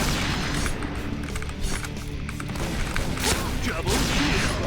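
SPAS-15 shotgun fire in a first-person shooter video game, dense booming blasts and mechanical clatter packed into a loud, continuous stretch of combat audio, with a voice talking over it.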